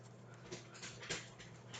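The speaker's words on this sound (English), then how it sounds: "my dog is making a whole bunch of noise" Dog whimpering and panting in short broadband bursts close by, over a steady low electrical hum, moderately quiet.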